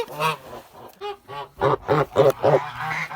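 A domestic goose hatched on March 26 honks in a run of loud, close, nasal calls, several short bursts in quick succession with brief pauses, and nobody speaks.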